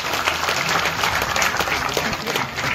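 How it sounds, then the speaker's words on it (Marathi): An audience at a temple consecration ceremony applauds, a dense, continuous burst of many hands clapping at close range, filling the whole moment without any voices. "टाळ्या वाजून माझं समाधान करू नका"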